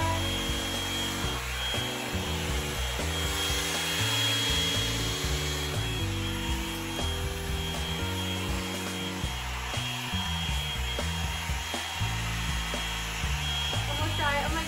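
A handheld hair dryer blows over chalk-colored dark hair with a steady, loud whooshing roar that runs the whole time, while music plays underneath.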